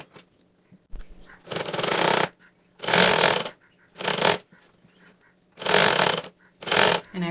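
A sewing machine stitches the neckline of a straight churidar in five separate bursts, each a loud buzzing run of about half a second to a second, separated by short quiet pauses.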